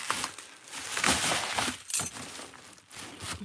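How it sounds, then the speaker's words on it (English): Glass leaf ornaments clink and rattle as they are handled, a run of bright, close chinks and brittle jangles that spreads across the whole stretch with brief pauses between handfuls. "It's some kind of glass. They look like leaves."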